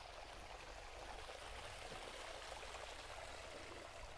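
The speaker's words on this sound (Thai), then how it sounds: "เสียงน้ำไหลอย่างเงี้ย" A steady stream of water flows continuously outdoors, a constant rushing wash heard alone at a moderate distance.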